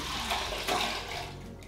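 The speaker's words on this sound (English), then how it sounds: "So now that I've melted my butter inside my milk, it's all downhill from here. So now we've just got to add it to the bowl in order. So just pour that in" Melted butter and milk poured into a mixing bowl for hot cross bun dough, a close, continuous liquid splash and gurgle lasting under two seconds.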